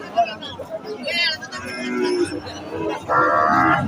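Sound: Holstein Friesian cross-breed bull at a cattle market

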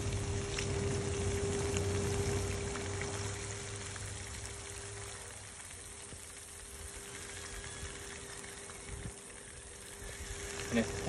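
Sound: chopped onion and sweet pepper frying in oil

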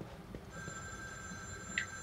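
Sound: phone ringing in the video game The Evil Within 2

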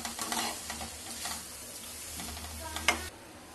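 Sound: stirring aloo gobhi with spices and salt in a frying pan

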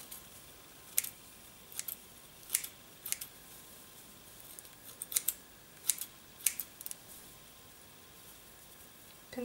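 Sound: scissors trimming moss on an Easter egg

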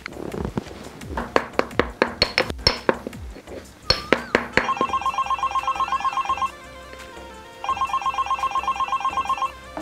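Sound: telephone ringing

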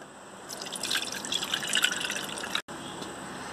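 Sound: chocolate cocoa mixture being strained into a saucepan

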